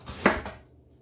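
A single sharp knife chop through fresh garlic and ginger, one close knock that fades quickly into quiet.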